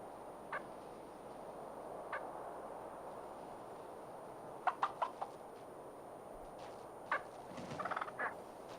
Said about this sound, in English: A flock of Merriam's wild turkeys forages on acorns and seeds